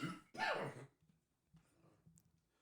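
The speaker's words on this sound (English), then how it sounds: "I'm about to cough." One forceful cough bursts out close to the microphone, followed by a few quieter throat sounds and breaths in a quiet room during an anime podcast.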